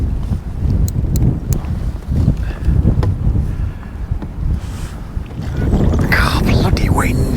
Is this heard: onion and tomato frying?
no